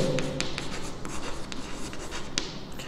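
A pen scratching on paper while dimensions are written out for a surface-area problem, with quick close strokes and taps in an uneven rhythm and no speech.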